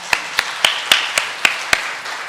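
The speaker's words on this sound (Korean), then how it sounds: "하나님께 영광의 박수 올립니다." A church congregation at a summer revival meeting claps in unison to give glory to God: seven crisp, evenly spaced, loud claps in a steady rhythm, with no talking.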